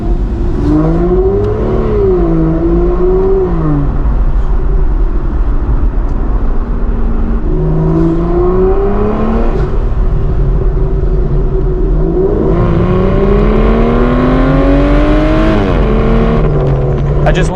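Aston Martin Vanquish V12 engine revving loudly and continuously from inside the cabin, rising and falling through repeated throttle blips and upshifts with a deep, steady drone throughout.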